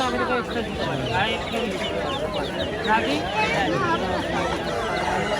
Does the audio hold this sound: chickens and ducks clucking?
yes